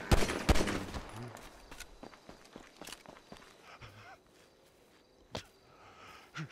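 Gunfire in GTA V, a quick cluster of loud shots up front followed by scattered footsteps and lighter impacts, with one more sharp crack later, heard fairly close.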